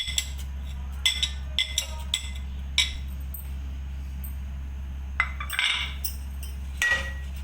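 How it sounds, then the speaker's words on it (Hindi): Whole spices fry in hot oil in a pan for chicken korma, with scattered light clinks and taps of a utensil against the pan over a constant low hum and faint background noise. "खुशबू आने तक हम इसको फ्राई करेंगे जी।"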